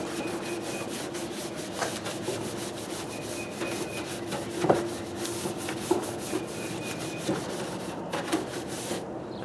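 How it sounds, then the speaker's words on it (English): A brush scrubs orange citrus degreaser over grease and grime in a car engine bay, giving a close, continuous rough rubbing with irregular strokes and a few sharper knocks, no talking. "And I'm simply going to come in with a brush."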